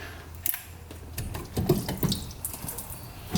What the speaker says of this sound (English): Spilling coolant everywhere.